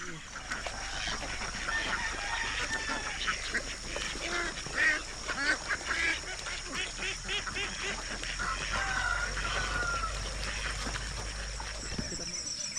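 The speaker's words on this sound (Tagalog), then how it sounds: "yan yung ating mga itik" Flock of ducks quacking outdoors at a pasture, a busy chorus of overlapping nasal calls with a steady background hum.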